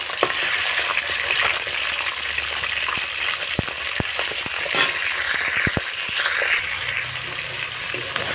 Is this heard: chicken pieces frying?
yes